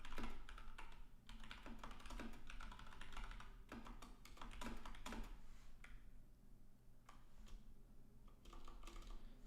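Quick bursts of keystrokes on a computer keyboard during a live hacking session, clattering close by in irregular runs with short pauses, alone without talk.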